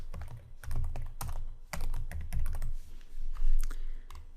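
Rapid typing on a computer keyboard while entering contract details into a Microsoft Access 2010 form, close and clear, with irregular bursts of clacking keys and brief pauses, no voices.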